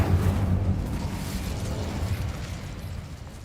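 A fire spell, Incendio, cast in Hogwarts Legacy, producing a loud whooshing burst of flame that swells at once and then fades over a few seconds, with no voices over it.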